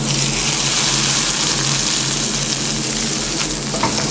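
Curry leaves sizzling in hot oil while tempering for a South Indian chutney served with medu vada, a dense, steady crackling hiss that stays loud and unbroken throughout.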